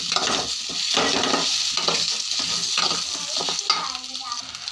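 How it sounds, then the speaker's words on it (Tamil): Taro pieces with turmeric being stirred in hot oil, giving a close, continuous frying sizzle broken by rhythmic scraping strokes of a spoon against the pan, with no talking. "மஞ்சள் தூள் போட்டு இது ஏன்னா எண்ணெய் ஊற்றி இப்படி கிளறி விடுறேன்"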